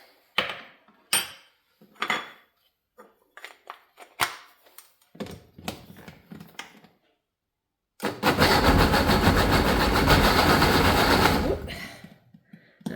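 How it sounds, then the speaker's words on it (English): A kitchen blender whizzes mandarin marmalade in one loud, steady burst of about three seconds, coming after scattered clinks and clatter of utensils and a quiet pause. "I might just give it another really quick whiz."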